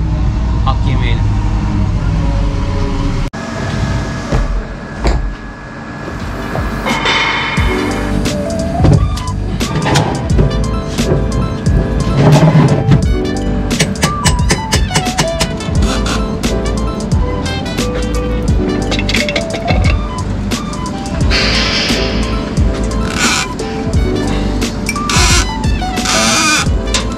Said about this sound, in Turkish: Şimdi gideceğim bir arabanın o marşını çalıştırmaya çalışacağım.